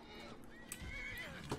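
A horse in the video game Skyrim gives a high whinny amid busy game noise, with faint hoof clatter and other in-game sounds layered underneath at moderate level.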